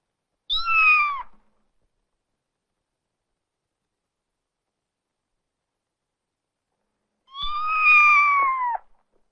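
A cat meows twice, close and clear, with a long silent pause between; the second meow is drawn out longer than the first.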